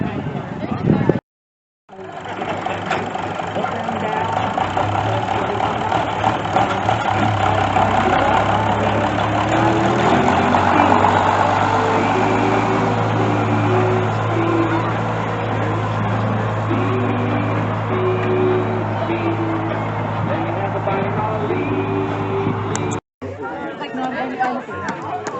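A tractor or truck engine idles and runs steadily while pulling a hay ride for a big group of kids at a community honey and bee event, a low continuous rumble under constant crowd chatter and voices.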